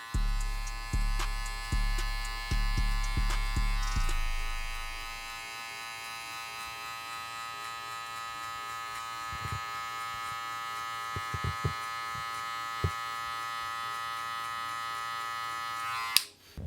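Electric hair clippers with a one guard and the lever fully closed cut hair during a burst fade, starting with a run of rhythmic pulsing passes and then settling into a steady close buzz that stops abruptly near the end.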